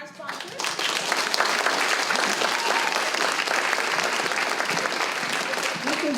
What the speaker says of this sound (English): Clap it up for our sponsors